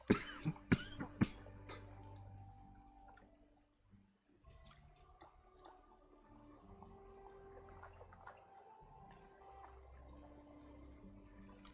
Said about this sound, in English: Every week I'm coughing in your ears.